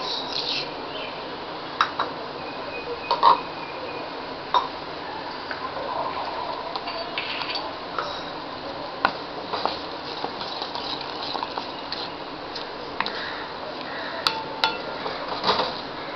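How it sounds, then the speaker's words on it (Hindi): A spoon scrapes and knocks against a pan while papaya halva is stirred with milk and sugar, with irregular metallic clinks and taps over a steady low background. "अभी हम इसमें मिक्स करेंगे the milk and the sugar"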